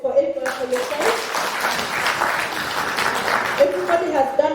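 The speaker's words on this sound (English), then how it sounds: "Clap for yourself." Participants at a Rotary Club of Siaya HIV and AIDS reduction workshop clap for themselves, a burst of group clapping that swells in the middle for about three seconds, with a voice speaking before and after it.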